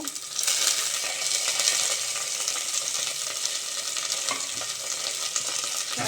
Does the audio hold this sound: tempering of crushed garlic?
yes